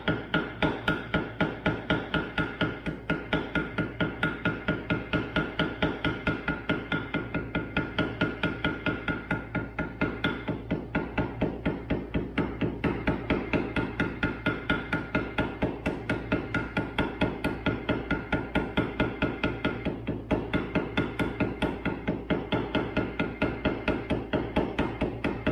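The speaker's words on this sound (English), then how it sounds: "And then just start texturing and hitting it with a hammer." A hammer strikes wet leather over and over to texture it for a sheath, a steady stream of close, sharp, dull taps in an irregular rhythm with no voices.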